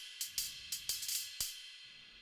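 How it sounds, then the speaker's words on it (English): Hi-hat cymbal pattern from the EZdrummer drum plugin: about six crisp, bright metallic ticks in an uneven, syncopated rhythm, each decaying quickly, heard alone and fairly quiet. "And the hi-hat is playing the exact same pattern pretty much."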